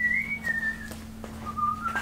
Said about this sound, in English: do your whistling.